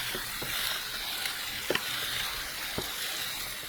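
Lion head pork meatballs browning in a pan, a steady hissing sizzle with occasional soft pops and clicks of turning, close and continuous.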